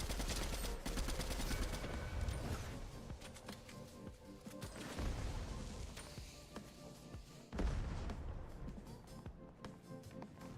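Shooter video game gunfire, dense bursts of rapid automatic shots coming in several waves with short pauses between them, loud and continuous for the whole stretch.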